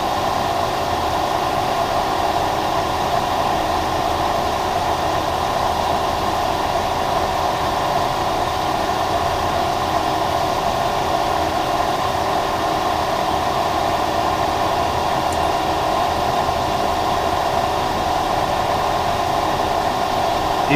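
Alzmetall milling machine running at about 150 RPM, a steady continuous mechanical hum and drone filling the whole stretch at constant level, with no talk over it.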